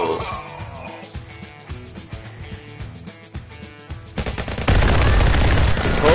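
Rapid gunfire in the VR shooter Guns n Stories: Bulletproof on PSVR, dense bursts of shots with game music underneath, ending in a loud sustained roar of noise.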